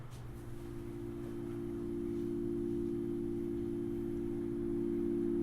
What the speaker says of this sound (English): let's just hear the sound of my chord oscillator on its own